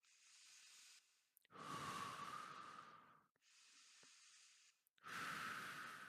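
Someone takes slow, deep breaths, up close: two long, hissing inhales alternating with softer exhales, with no talking.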